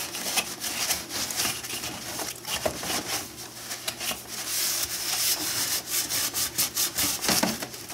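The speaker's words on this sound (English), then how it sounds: "So we'll just give her a little clean with some WD-40, I guess." A rag or brush scrubs a grimy metal part with WD-40, producing rapid, uneven rubbing and scraping strokes that come close and loud in bursts, growing busier toward the end.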